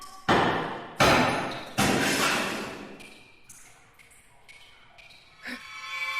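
Three heavy thuds of a hammer striking a wall in the video game The Last Door, evenly spaced at the start, followed by quieter scattered knocks and faint shuffling.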